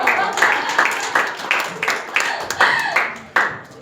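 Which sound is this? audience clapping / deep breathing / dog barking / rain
audience clapping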